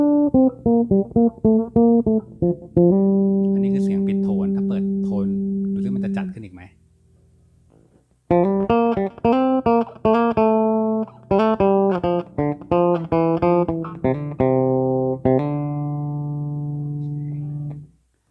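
Solo played on a 5-string bass strung with Rotosound Swing Bass 66 strings: bright plucked notes in quick runs, a long sustained note, a short pause, then more fast phrases and held tones, loud and close.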